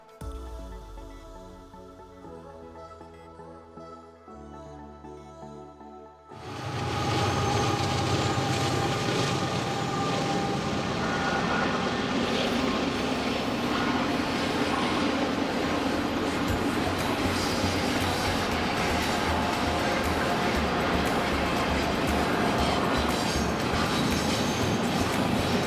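A train passes Morant's Curve on the Bow Valley Parkway near Lake Louise in Banff National Park. Softer tonal sounds open the clip, then a loud, sustained rumble with wheel clatter begins after six seconds and fills the rest.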